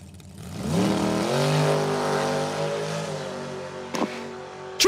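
A dragster launches down a drag strip, its engine rising into a loud sustained wail that holds steady and then fades, with a couple of sharp bursts near the end.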